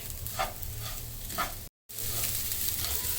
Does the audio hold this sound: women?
no